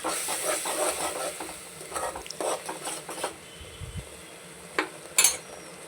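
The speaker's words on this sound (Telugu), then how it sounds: "బాగా కలుపుకోండి, పచ్చివాసన అంతా పోయేదాకా కలుపుకోండి" Mint rice masala being stirred with a little water in a pan, giving a soft continuous scraping and sizzling hiss with a few brighter clinks of the spoon against the pan near the end.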